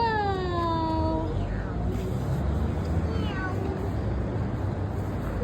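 A tabby cat meows several times, loud and close, with a long rising cry first and shorter meows after, over steady background hum and people talking.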